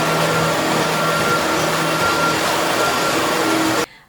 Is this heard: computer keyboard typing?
no